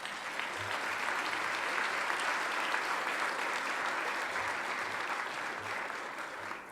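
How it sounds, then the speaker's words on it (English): Sustained audience applause fills a hall at an annual air-quality awards summit, steady and dense from start to finish with no speech over it. "please join me in giving all these organizations a big round of applause"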